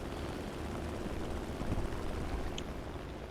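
The propeller engine of a P-43 Lancer in the War Thunder flight game drones steadily as a broad, constant roar that holds at an even level for the whole stretch, with no voices over it.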